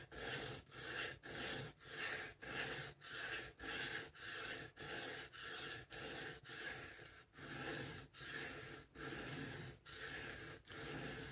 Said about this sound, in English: You just want to be nice and easy on the stone.